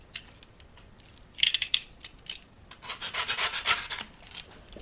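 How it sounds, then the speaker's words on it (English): Scissors snip through a full lace wig in close, crisp bursts: a quick cluster of cuts, a pause, then a longer run of rhythmic rasping snips, with no talking. "I'm actually gonna start cutting off a little more."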